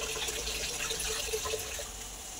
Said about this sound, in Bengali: ভাতের চালটা ধুয়ে নিলাম